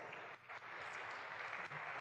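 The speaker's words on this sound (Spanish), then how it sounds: "Un aplauso les pido nuevamente para Maurilio Suárez." An audience applauds for Maurilio Suárez at a live talk, a faint, continuous wash of clapping that continues for a couple of seconds.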